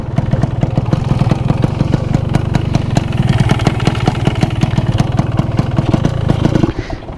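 A Yamaha RX Special 115 cc two-stroke motorcycle engine with an Altek C17 exhaust runs loud and close, a rapid throbbing putter that holds steady before dropping off near the end.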